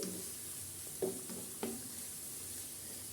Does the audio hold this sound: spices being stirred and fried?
yes